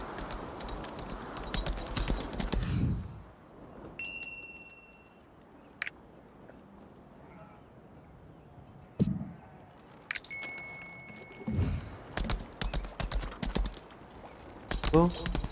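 Horse hooves clip-clop in the video game Lost Ark, a steady rhythmic trot with intermittent chime-like game sounds over it, fairly close and moderately loud, interrupted by a few quiet gaps.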